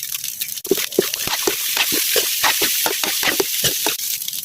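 Leftover chicken tapa being stirred into sinangag (Filipino garlic fried rice) in a hot pan, with a steady close sizzle of frying broken up by repeated scraping and tossing strokes of a spatula, and nobody speaking.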